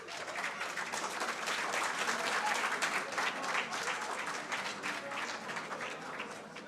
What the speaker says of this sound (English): I know the claps are for something else.